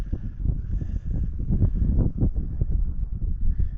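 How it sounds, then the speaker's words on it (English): Wind gusting across a canyon campsite, a rough, low buffeting rush that swells and dips continuously against the microphone, loud and close, with no voices. "kind of windy up here"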